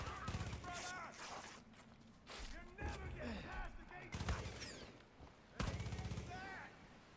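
Bursts of gunfire in Far Cry 5 on PS4 crack out in several loud, irregular volleys, with a voice talking over the shots between and during them.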